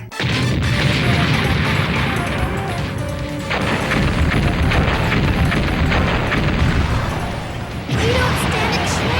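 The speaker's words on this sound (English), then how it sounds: "All port cannons, prepare to fire!" Ship cannons firing in the video game Mega Man Legends, heavy booming blasts in quick succession with sharp onsets, loud and close.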